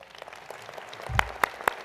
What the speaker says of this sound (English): Faculty members, please stand and receive the applause of today's crowd.